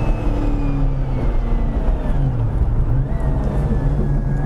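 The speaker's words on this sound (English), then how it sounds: "Okay, we're going to take the one lap Camaro, 67 Camaro owned by James Shipka, around Streets of Wil" A 1967 Chevrolet Camaro runs a lap of the Streets of Willow Springs racetrack, its engine droning and rising in pitch as it accelerates, a loud, steady roar heard from on board without speech.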